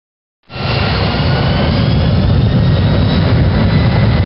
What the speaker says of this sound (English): Now raise the reverse thrust levers to the full reverse position.